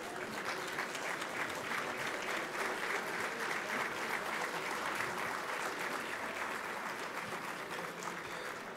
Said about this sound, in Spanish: Le damos un fuerte aplauso, por favor, al candidato Meade.